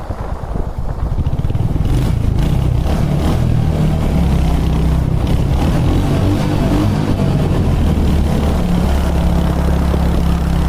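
A Royal Enfield Hunter 350 motorcycle engine running close by, a loud steady low rumble with a slight rise in revs early on, continuing throughout without speech.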